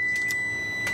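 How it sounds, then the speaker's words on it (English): A kitchen oven timer beeps steadily during home cooking, a high electronic tone sounding continuously with brief pulsing bursts over quiet room noise. "the timer keeps going off"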